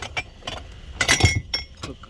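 Several old Coca-Cola drinking glasses clink against one another as they are handled, with bright, close taps that come in short clusters.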